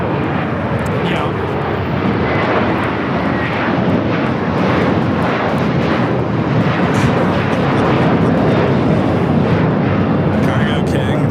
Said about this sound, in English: Cargo King, 777 freighter.